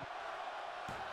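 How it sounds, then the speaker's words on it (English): Arena crowd in the WWE 2K24 wrestling video game roaring and chanting, a dense continuous wash of voices heard close and loud throughout the short stretch. "the crowd's chanting one more time. They want to see it again."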